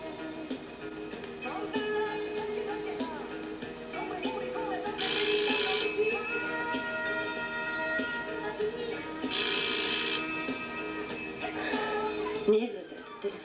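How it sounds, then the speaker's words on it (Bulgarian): A telephone rings in two bursts of bright bell tone inside a room, heard over music and background sound with people talking. "Не е вратата, телефонът."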